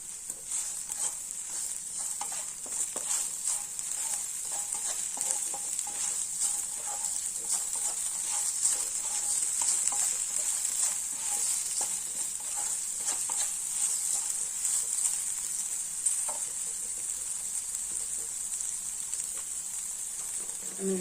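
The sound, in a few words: okra frying in a pan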